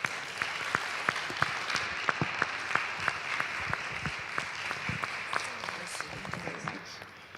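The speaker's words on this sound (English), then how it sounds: "Another round of applause to Mrs. Sanni." An audience at a property entrepreneurship masterclass applauds steadily for several seconds, a fairly faint, even wash of clapping with a few sharper individual claps standing out.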